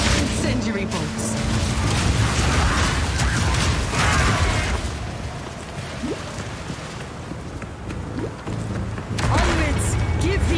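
Incendiary crossbow bolts firing in Path of Exile 2, heard as mechanical clacks, pops and booming bursts within dense game action, partly under a narrator's voice.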